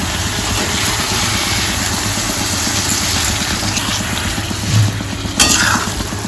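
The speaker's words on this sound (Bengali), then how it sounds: "এবারে মশলাটা কষাতে কষাতে দেখুন একটুখানি হালকা হালকা করে দেখুন তেল ছাড়ছে।" Spice paste with potatoes and tomato paste frying in oil makes a steady, close, crackling sizzle throughout, with a couple of soft utensil knocks near the end and no voices.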